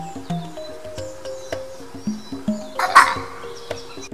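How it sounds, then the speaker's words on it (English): Vervet monkey long call given in response to an eagle: a run of short, sharp repeated calls at a steady rhythm with one louder burst near the end, over an outdoor backdrop of birds and insects. "Let's hear how Vervet monkey's long call sounds for an eagle."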